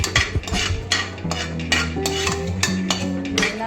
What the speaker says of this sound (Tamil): ஃபஸ்ட்டு ஒரு பேனில் ஆயில் விட்டுட்டு நெய் விட்டுட்டு மசாலா ஐட்டம்ஸ்லாம் போட்டு கொஞ்சம் வதக்கணும்.